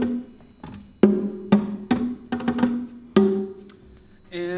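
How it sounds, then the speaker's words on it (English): A pair of bongos played by hand, sharp hits in an uneven pattern with a few quick flurries, each ringing briefly with a clear pitch, close and alone. "I have a pair of bongos."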